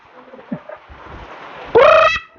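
A single loud, harmonic fowl squawk or honk rises sharply near the end and holds for about half a second, following a stretch of quieter rustling and murmuring background noise.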